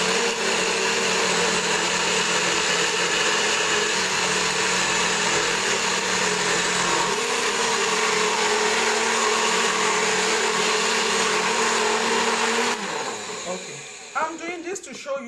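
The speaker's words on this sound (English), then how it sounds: "So now I'm just going to blend. Sorry, in case it's noisy, pardon me." Kitchen blender grinding tiger nut and mushrooms for swallow: a loud, steady whirring motor drone with a slight pitch shift midway, then winding down and stopping near the end, with faint handling knocks.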